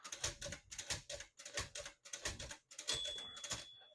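A 1966 Smith-Corona Sterling portable typewriter's tab clear key is pressed repeatedly, giving a close series of about seven sharp mechanical clacks in an even rhythm, with a short ringing tone near the end.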